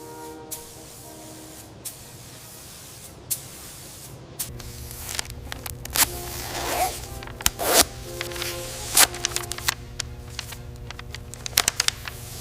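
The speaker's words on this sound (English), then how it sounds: "Spraying matte olive drab paint on the nose." A spray gun applies matte olive drab paint to the nose of a P-38 Lightning, in bursts of hissing spray that grow louder and more frequent, with short pauses, close by in a quiet workshop.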